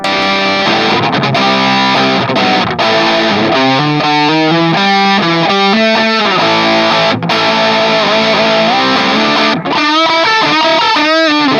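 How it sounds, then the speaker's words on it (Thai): Heavily distorted electric guitar plays chords and riffs through a Flamma FS06 preamp, loud and saturated, with sustained notes and brief gaps. "แล้วก็เหยียบเสียงแตกเข้ามา"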